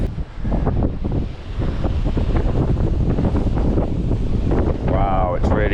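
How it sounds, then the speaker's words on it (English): Strong gusting wind buffets the microphone on a boat at sea during night squid jigging, a loud continuous roar with someone talking over it. "Wow, it's really gusting now."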